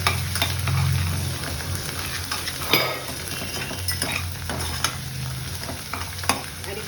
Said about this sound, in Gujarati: તો 1 થી 2 મિનિટ માટે આપણે સાતળી લેવાનું છે.